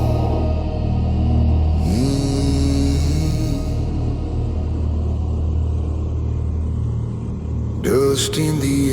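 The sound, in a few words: vehicle wheels grinding and rattling over gravel highway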